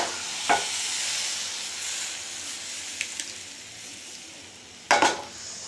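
Vegetable chilla batter frying in a hot pan, a steady bright sizzle with a few sharp utensil scrapes and clinks against the pan, close and without talk.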